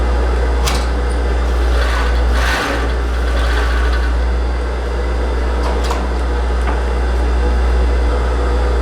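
A coverstitch (collareta) sewing machine stitches a small fabric scrap, its motor giving a loud, steady whirring drone that barely changes, with a brief dip partway through.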